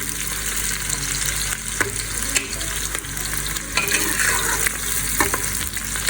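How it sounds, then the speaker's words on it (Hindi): Sliced onions fry gently in oil, giving a steady close sizzle with occasional stirring clicks and scrapes over a low background hum, no one speaking. "अब मैं इनको हल्का सा जो है वो प्याजों को फ्राई करूँगी"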